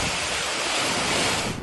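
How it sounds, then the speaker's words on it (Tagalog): Typhoon Aghon winds roaring through coconut trees in Sariaya, Quezon, a steady, dense broadband rush of gusting air and thrashing fronds that stays loud and unbroken throughout, with no voices. "Tila sumasayaw sa ihip ng hangin ang mga puno ng niyog sa Sariaya, Quezon sa pananalasa ng bagyong Aghon."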